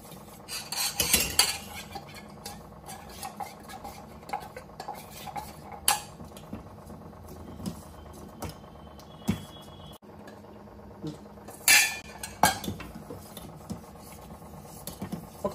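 A spoon stirs ragi porridge in a metal pot, with scattered clinks and scrapes against the pot, some sharper knocks and stretches of softer rubbing, close and fairly quiet with no talk.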